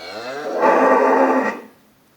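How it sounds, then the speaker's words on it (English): A single drawn-out cow moo, close and fairly loud, rising and holding before trailing off into quiet. "noisy cows."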